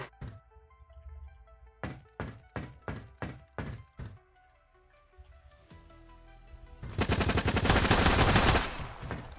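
Grenade explosions and gunfire in the indie game Project Onyx: a rapid series of eight sharp shots or blasts with ringing tones, then a long, loud burst of continuous crackling noise, with no talking.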